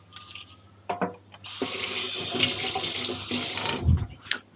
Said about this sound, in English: Go wash the onion.